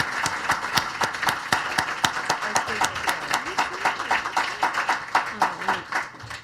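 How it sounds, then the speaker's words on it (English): At a state and tribal partners meeting, a small audience claps for the panelists in sharp, distinct, fairly even strokes rather than a dense roar. Voices murmur underneath as the clapping carries on. "let's give a big round of applause to all of our panelists."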